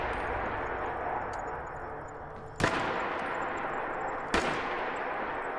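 Two sharp, loud gunshots ring out a couple of seconds apart over a steady rumbling ambience in Fallout 4 modded to resemble Metro Exodus.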